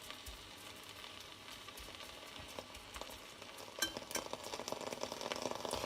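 A nettle galette cooks slowly in a pan over low heat, giving a soft, steady sizzle with faint crackles and a few light clinks, growing slightly louder toward the end, no voices.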